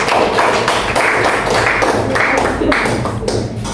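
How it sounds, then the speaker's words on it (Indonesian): Audience applause for Mei Ita during a school lesson: a dense, steady wash of many hands clapping at close range, lasting throughout without pause. "kita kasih tepuk tangan untuk Mei Ita"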